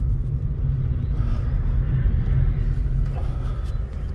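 A 2020 Nissan Versa S with a CVT rolls along, its steady low engine and road rumble droning evenly from inside the cabin with no talk.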